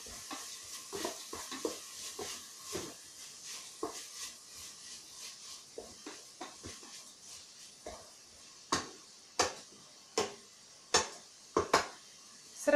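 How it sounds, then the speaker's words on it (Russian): Grated carrots and onion stirred in a multicooker bowl, a soft background sizzle broken by repeated scraping strokes and sharp knocks of the spoon against the pot, growing more distinct and spaced toward the end. "Перемешиваю с луком."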